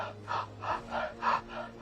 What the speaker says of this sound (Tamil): வாயை திறந்துட்டு மூச்சு விடுங்க.